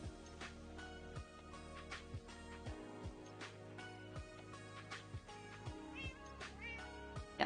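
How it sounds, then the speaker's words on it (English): Cats meow softly in a quiet workshop where train sleeper-car interiors are being built, with several short calls over a faint steady background hum. "There's the cats."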